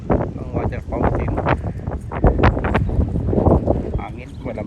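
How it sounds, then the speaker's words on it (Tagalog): Cold wind blowing outdoors in the gardens at Hampton Court in London, gusty buffeting against the microphone beneath a voice. "Hangin, malamig."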